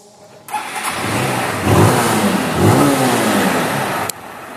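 A Honda Titan 160 motorcycle engine with a 5mm big-bore kit, running on alcohol with high-flow injector, fires up abruptly and revs hard, climbing and falling in pitch a couple of times before cutting off sharply; loud and close.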